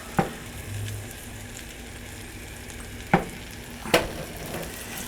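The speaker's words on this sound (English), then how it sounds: "I want to cook these over medium heat for about 5 minutes until they're translucent and tender." Chopped onions cooking in melted butter in a large ceramic saucepan over medium heat, a low steady sizzle with three sharp utensil taps against the pan, close with no voices.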